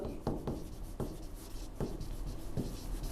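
Writing on a board during a geometry class on trapezium properties, heard as a series of short scratchy strokes and taps in an uneven rhythm, close and clear, with no talking.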